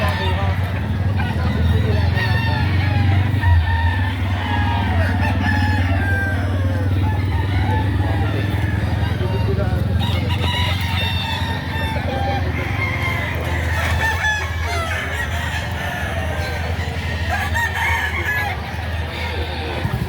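Several roosters crow repeatedly, loud and near, over a busy background of clucking birds and people talking at a place selling chickens.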